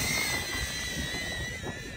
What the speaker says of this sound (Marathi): तू बघत नाही ड्रोन किती वाकडा चालतोय बघ ना